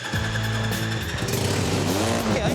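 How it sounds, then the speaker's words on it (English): A misfiring engine on a makeshift vehicle built from scrap for an ice engineering contest, loud and close, running rough with uneven, shifting engine tones and stuttering pulses. "It's not running properly, that engine. You can hear a misfire."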